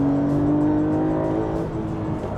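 A Porsche 911 engine accelerates hard through gears, a loud, steady rising drone with shifting harmonics and brief dips at each gear change, heard up close without any talk.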